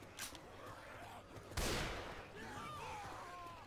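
Gunshots in Left 4 Dead 2 on expert mode, one sharp shot standing out from a quiet, noisy backdrop of distant game sounds, with faint voices speaking underneath.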